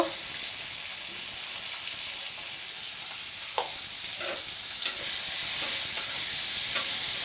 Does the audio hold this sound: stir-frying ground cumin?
yes